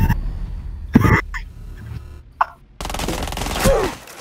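Automatic gunfire from a Rainbow Six Siege match comes in short loud bursts that are separated by brief gaps, and a sustained burst follows near the end.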